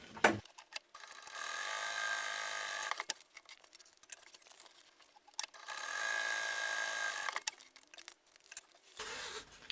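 Sewing machine stitching a fabric tool pouch in two runs of several seconds each, a fast buzzing needle rhythm close by, with quieter handling clicks and rustles between the runs and no speech.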